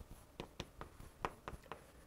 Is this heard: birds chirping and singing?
no